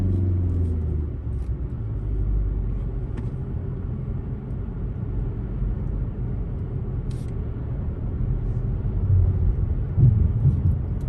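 Car gaining speed on a road near Orillia during a G driving test, a steady low engine and tyre rumble that swells slightly toward the end, continuous and close with no talk.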